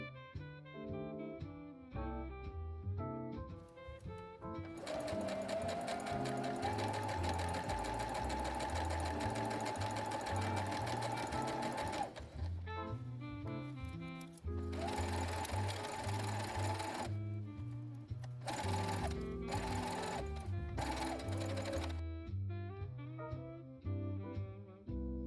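Sewing machine stitching a facing onto a flannel dress, heard close in several runs of rapid, even stitching, the longest lasting around seven seconds, broken by short pauses, with soft background music underneath throughout.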